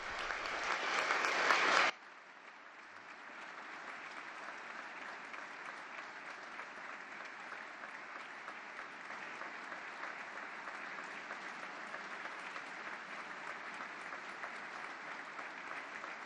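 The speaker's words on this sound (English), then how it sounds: "And we heard sustained applause for Pope Francis's." Sustained applause from a large audience at a world leaders' summit on children's rights at the Vatican, a brief louder burst giving way to a long, even, distant-sounding wash of clapping.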